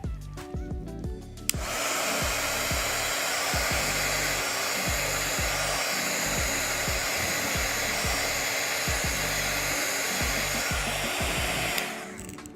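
A heat gun blows hot air over layered art materials, a loud, steady roaring whoosh that kicks in abruptly and runs unbroken for about ten seconds before cutting off.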